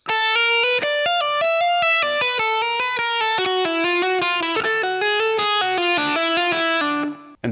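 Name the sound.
distorted electric guitar playing hybrid Dorian blues legato lick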